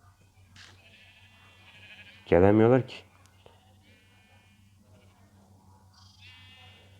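A single loud, close Minecraft sheep bleat stands out, with people talking quietly before and after it over a low steady hum.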